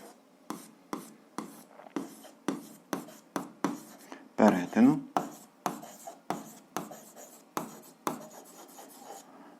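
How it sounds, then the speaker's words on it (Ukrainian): Pen scratching across paper in short rhythmic strokes, about twenty evenly spaced scrapes close up, with a brief voice breaking in midway. "Записуємо, що це точка перетину. Так і пишемо точка."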